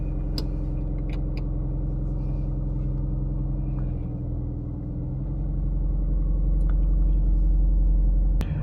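A car cruising along a road gives a steady, close engine rumble and road roar throughout, with occasional faint clicks and rattles inside the cabin.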